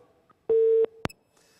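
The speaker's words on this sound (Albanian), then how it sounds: "Duke se ka rënë sërish linja, do të presim sërish një tjetër telefonat" A telephone busy tone sounds after a call-in line drops, a short steady beep followed by a click and faint line noise.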